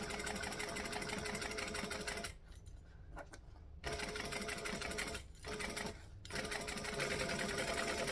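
A domestic sewing machine stitches through foam and lining with a steady mechanical whirr, stopping briefly twice before running on.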